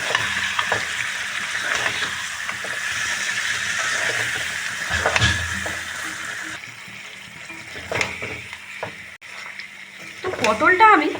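Pointed gourd goes into a pan of spiced masala seasoned with asafoetida, giving a steady sizzle with occasional stirring scrapes. Clatter and a brief watery burst come near the end.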